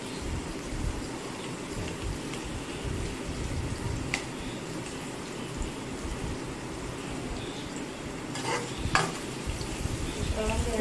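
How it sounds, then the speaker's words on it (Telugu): Onions stirred and fried in a pan until brown, a steady close sizzle with constant scraping and stirring throughout, a couple of sharper clinks of the spoon near the end. "ఇలా ఆనియన్ బ్రౌన్ వచ్చే వరకు వేయించుకున్న తర్వాత"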